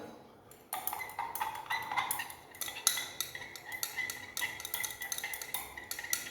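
A spoon clinks and scrapes steadily inside a glass while salts such as sodium chloride are stirred to dissolve, producing continuous close ringing taps with a faint hiss underneath.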